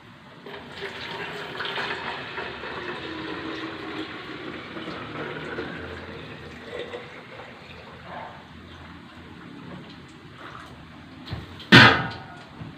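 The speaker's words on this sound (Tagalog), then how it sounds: "Ngayon po, sasalin ko po." Homemade paragis herbal decoction is poured into a large container, giving a continuous trickling, splashing flow that swells and fades, ending in a brief loud clatter.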